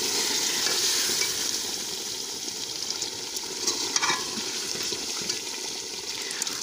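A pot of salan curry bubbles and sizzles over a strong fire, giving a steady nearby hiss with occasional sharper crackles and no speech.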